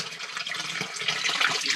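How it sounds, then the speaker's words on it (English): Water drains from a water heater tank through a hose, a steady close hiss of rushing, gurgling flow that holds for the whole short stretch and swells slightly toward the end, with no one talking. "There's water flowing out from the water heater tank."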